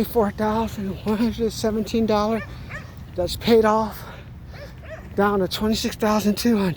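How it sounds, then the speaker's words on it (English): A dog barks repeatedly at water sprinklers, clear yips and bow-wows in quick bursts, close by and loud, mixed with someone talking over them. "The dog's barking at the water sprinklers"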